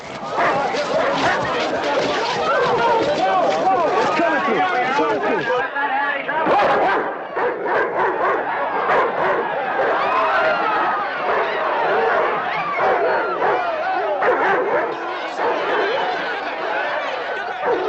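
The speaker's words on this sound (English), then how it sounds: "Get those dogs out of here." Dogs bark amid loud, continuous shouting and crowd chatter at a tense outdoor scene, the barking mixed into dense voices throughout rather than standing alone.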